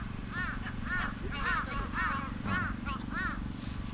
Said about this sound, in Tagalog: Nag-aaway yung dalawang uwak dito.